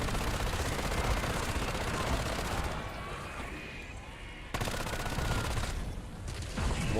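Automatic rifle fire in Call of Duty Black Ops 7 Zombies on the Paradox map, a dense, loud sustained burst of gunfire that eases off briefly in the middle, then resumes with a sharp, full-strength return.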